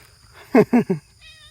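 A barn cat meows three times in quick succession, short and close, against an otherwise quiet background.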